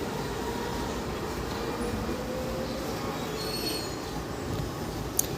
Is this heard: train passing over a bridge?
yes